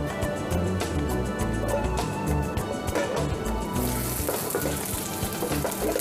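Loud, steady sizzling and crackling of duck searing in a medium-hot oiled pan, close up and continuous, with a rise in hiss toward the end.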